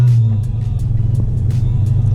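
A car cruising on a road late at night after a new HID headlight kit install, giving a steady low engine rumble and tire drone from inside the cabin, continuous and fairly loud with no talking.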